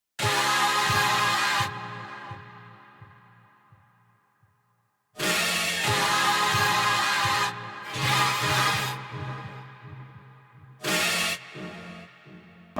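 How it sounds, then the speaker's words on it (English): Choir sample chopped into short stabs, loud sustained chordal hits that cut off abruptly and recur in separate bursts with gaps between them, heard alone without talking. "I chopped the choir up into stabs"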